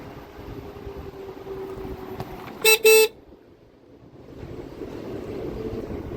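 On a dangerous mountain road in Kinnaur, a vehicle horn gives two short loud honks over steady engine and road rumble from inside a moving car.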